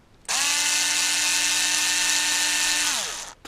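Motorized screwdriver whirring as it unscrews screws from a Mini-Z 4x4 RC car during a teardown: one steady, high buzzing whine of about three seconds that starts abruptly and winds down at the end.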